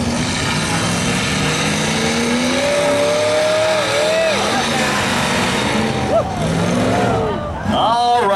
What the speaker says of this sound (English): 23-4 T-buckets that came with about 28 horsepower in a little straight four